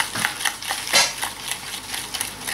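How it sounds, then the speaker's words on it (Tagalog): Spoon stirring sugar and water in a pot to make syrup, with repeated light scraping and clinking strokes in a steady rhythm, close and moderately loud, no voices. "Continue lang ang halo nito hanggang sa matunaw yung ating asukal."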